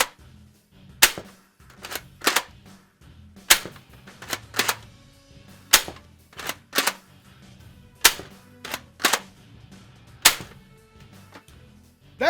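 A 1990s Koosh blaster fires rings again and again, a rapid irregular series of sharp, loud, close snapping shots broken by softer mechanical clicks from priming and rotating the drum.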